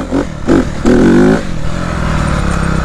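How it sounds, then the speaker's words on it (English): Dirt bike engine revving in short bursts before a wheelie, two quick blips followed by a longer loud rev, then settling to a rough idle, close and alone. "what is your favorite way to pop a wheelie on a dirt bike?"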